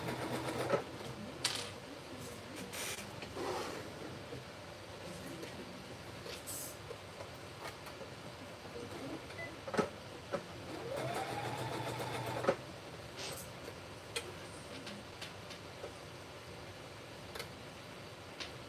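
A home sewing machine stitches pants in a steady rapid mechanical chatter, running in bursts with brief stops and small clunks from the mechanism, heard close and alone without talk.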